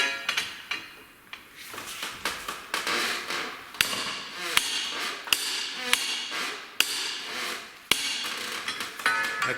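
A hammer strikes a control arm tool during rear end work on a Volvo, Land Rover, Jaguar or Ford, with sharp, loud metallic blows ringing among repeated tapping and clanking nearby.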